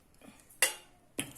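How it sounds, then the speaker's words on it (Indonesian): A spoon beating eggs with seasoning in a bowl, two sharp metallic clinks against the dish after a soft stir, close and otherwise quiet. "Lalu kita kocok sampai semuanya larut"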